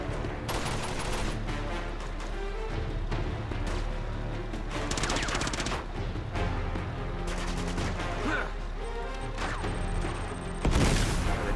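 Sustained automatic gunfire from an auto turret in the Uncharted 2 shooter, with dense bursts, booms and crashes layered across a loud, continuous battle soundscape and a sharp blast near the end.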